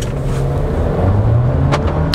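A Volkswagen T-Cross accelerates hard from a standstill in normal mode during a performance test, its engine roaring loud and close and rising as it pulls away.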